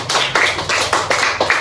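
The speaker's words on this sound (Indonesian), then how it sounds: "Tepuk tangan dulu." A class of students clapping their hands together in a quick, steady rhythm, close and loud, with the claps blending into continuous applause and no talking.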